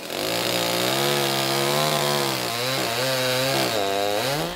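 A chainsaw cuts down a diseased linden tree on a city street, its engine loud and close, holding a steady high whine that sags under load and climbs again as the cut goes through.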